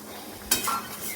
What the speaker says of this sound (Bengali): পেঁয়াজটাকে এখন লাল করে ভেজে নিই